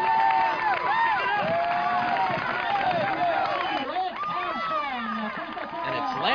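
Spectators cheer and shout for a runner nearing the finish of the 1989 Coca-Cola National Championship Sprint Triathlon, a loud, continuous crowd roar with whoops and claps under an excited announcer's commentary.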